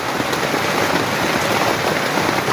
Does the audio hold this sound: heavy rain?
yes